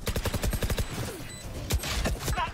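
Rapid gunfire in the video game Valorant, heard as a fast, evenly spaced string of sharp shots, then a short pause and another quick burst of shots.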